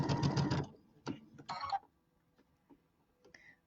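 A sewing machine runs a quarter-inch piecing stitch on a Christmas tree quilt block, a dense burst of rapid mechanical stitching followed by short separate bursts and a few quiet clicks between them.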